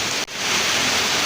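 Heavy rain pours down hard and steady near a shopfront, giving a dense, continuous hiss with one brief dip near the start.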